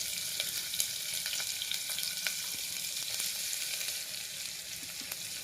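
Onions dropped into a pan of hot oil with sizzling cumin seeds fry with a steady hiss and scattered crackles and pops, heard alone and close in a home kitchen.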